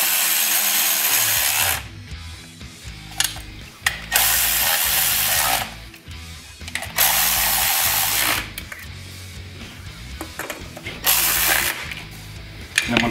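A ratchet tightens spark plugs on a supercharged Gen 2 Coyote 5.0L Mustang engine, with rapid, close clicking in repeated bursts separated by short pauses.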